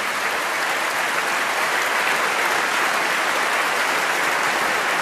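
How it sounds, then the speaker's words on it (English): Loud, continuous audience applause for the orchestra at the 2011 Cardiff Singer of the World opera competition final, an even wash of clapping from a full hall that never lets up. "acknowledging the applause for the orchestra"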